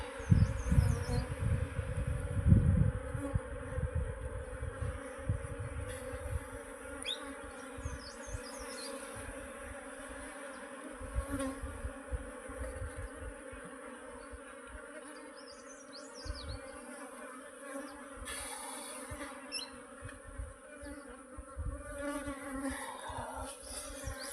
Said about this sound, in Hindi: ये बैठ गई मधुमक्खियाँ